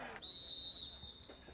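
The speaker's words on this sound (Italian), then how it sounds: "Quasi tutto pronto per il fischio d'inizio del direttore di gara" A referee's whistle sounds once for the kickoff of an under-15 youth football match between Gifra Milazzo and Folgore Milazzo, a single shrill sustained blast of about half a second, clear over quiet crowd ambience.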